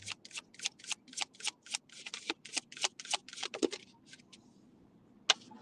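Playing cards riffle and snap in a quick, uneven run of crisp flicks, close and fairly loud, then go quiet before one last sharp snap.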